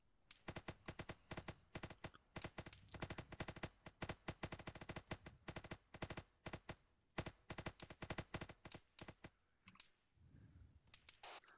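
Gunfire in a multiplayer shooter battle with the Imperial Fists, long rapid bursts of automatic fire stacked closely together, loud and near, tapering off near the end, with no talk.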